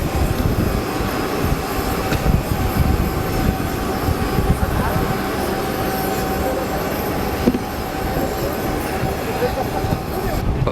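Steady, loud cabin roar of an Avro jet in flight to Antarctica, a continuous broadband engine and airflow drone with a faint hum, unchanging throughout.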